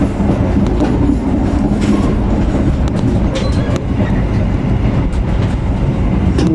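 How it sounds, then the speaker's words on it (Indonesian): The Papandayan train from Garut to Gambir rumbles steadily nearby, a dense continuous roar of wheels on rails with faint clacks and occasional metallic squeaks, loud and unbroken. "Ya, kereta nampaknya persiapan bersilang ya."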